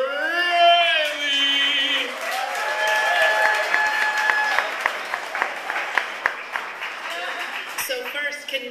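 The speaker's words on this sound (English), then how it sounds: "Please give it up for Joey and Riley" Audience applause for speakers at a live arts event, a dense burst of clapping with a few whoops, tapering into scattered claps while an amplified voice talks over it.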